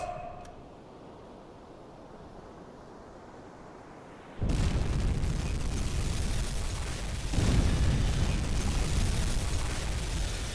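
Two torpedoes striking a cargo ship in the submarine game UBOAT, with a sudden loud, sustained explosive roar and a second surge of rumbling impact noise over steady underwater ambience.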